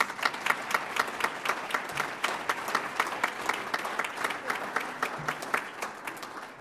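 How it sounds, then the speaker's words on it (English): A roomful of guests at a chamber of commerce awards dinner claps in a sustained round, with individual sharp claps standing out in an uneven rhythm, fading slightly toward the end. "Let's give them a round of applause."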